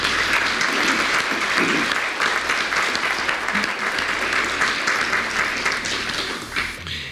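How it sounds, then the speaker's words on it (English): Dense, steady applause from an audience at a teacher awards ceremony fills about seven seconds without a break, then eases slightly toward the end. "let's give our folks at Bank of America a round of applause as well"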